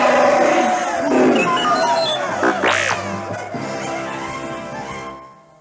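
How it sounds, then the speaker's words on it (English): Rebels and furry little Hoojibs cheer in a noisy crowd while Chewbacca lets out a rising victory roar over the excited din, a loud dense clamor that fades at the end. "Cheering rebels and Hoojibs rushed into the cave as Chewbacca gave a victory roar."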